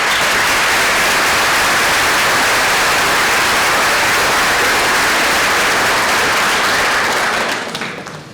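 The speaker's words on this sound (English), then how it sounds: "How about a round of applause for all of our educators." Loud, dense applause from an audience at an 8th grade celebration for educators, sustained for several seconds before tapering off at the end.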